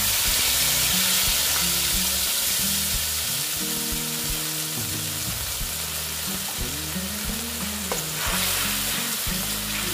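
Vegetarian aloo dum with curd sizzling over low heat as it is stirred, a loud continuous frying hiss with regular scraping strokes and a low droning hum underneath, no talking.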